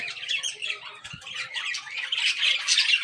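A pet parrot (tota) kept in a netted cage squawks repeatedly in harsh bursts, close and fairly loud, with no talking.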